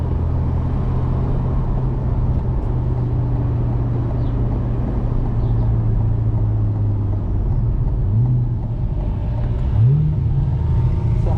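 A C8 Corvette's V8 drones at a steady, low rumble while cruising countryside B-roads, then gives a couple of short rising revs near the end.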